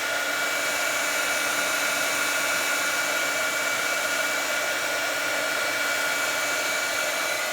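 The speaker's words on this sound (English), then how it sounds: "This is a great heat tool." A handheld heat embossing tool blows hot air in a constant, loud whooshing hum, with no break for the full length and no voices.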